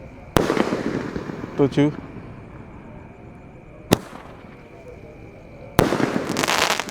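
A 1.9 inch Roman candle firework shooting at night during Ramadan: three sharp, loud launch pops spaced a few seconds apart, each followed by hissing crackle, with a brief whistling burst and a person counting in between.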